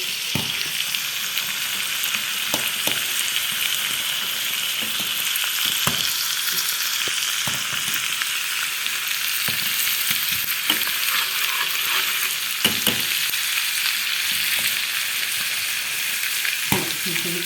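Molokhia and garlic fry in a pan with a steady, close sizzle, broken by occasional scrapes and clinks as the greens are stirred.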